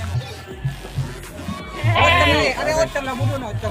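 Etawa goats and kids bleating at a goat market in Situbondo, with several short bleats rising over busy crowd chatter and people talking nearby.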